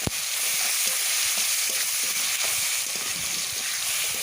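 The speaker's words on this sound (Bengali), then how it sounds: "ওর মধ্যেই ফোড়ন দিলাম জিরে তেজপাতা" Cumin seeds and bay leaves sizzle in hot oil in a wok while a crab curry is being cooked; the close, steady hiss of frying runs throughout with small crackles and no voices.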